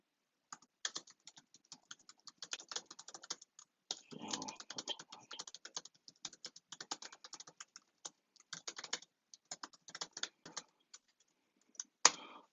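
Rapid bursts of typing on a computer keyboard while a form is filled in, keys clicking in quick irregular runs with short pauses, close and fairly quiet, plus one sharper click near the end.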